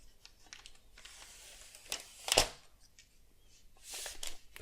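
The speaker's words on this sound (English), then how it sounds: "we have this flap to take the plastic off" Protective plastic film peels off a new iPad Pro 11-inch in quick crinkly bursts, with one sharp rip in the middle and a rustle near the end, close and fairly quiet, without speech.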